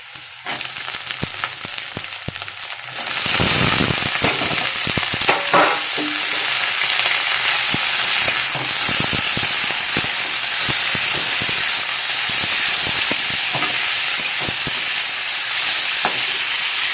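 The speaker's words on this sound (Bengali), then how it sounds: "আলুগুলো কিন্তু আমি ভালো করে আগে ভেজে নেবো" Cut potatoes frying in oil: a quieter pan gives way after a few seconds to a loud, dense sizzle as they go in, then a steady close hiss with spatter crackles and stirring scrapes throughout, no talking.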